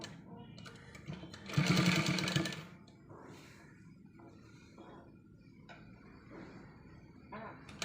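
A sewing machine stitches piping onto the round neck of a cross-cut blouse, a short loud whirring burst of running stitches, with a voice talking at other moments.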